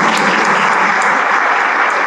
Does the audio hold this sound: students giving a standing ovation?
yes